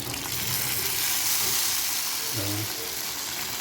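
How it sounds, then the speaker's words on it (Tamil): Cauliflower 65 deep frying in hot oil, a continuous bubbling sizzle heard up close with a brief lower clatter partway through. "செம்மையாக ஃப்ரை ஆகிட்டுருக்கு"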